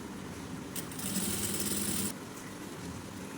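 A sewing machine stitches polyester-mix nighty fabric in one brief, fairly faint run of rapid mechanical whirring lasting about a second, with quiet room noise before and after.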